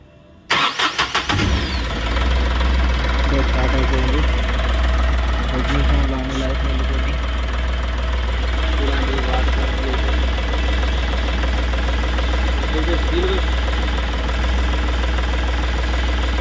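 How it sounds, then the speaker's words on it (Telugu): An Ashok Leyland Dost diesel engine, just refitted and filled with coolant, cranks and fires after a brief quiet moment, then settles into a steady, loud, close idle with a knocking rhythm, while someone talks over it. "స్టార్ట్ చేద్దాం బండి"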